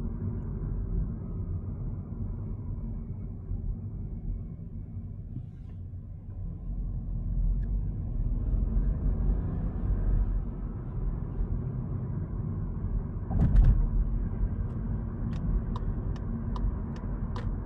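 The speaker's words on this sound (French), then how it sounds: "L'insonorisation à basse vitesse en ville, ici, avec un peu de circulation autour, semble être très bonne." Inside a Skoda Scala moving slowly through city traffic, a low steady cabin rumble persists throughout, with a short louder bump midway and a few faint ticks near the end.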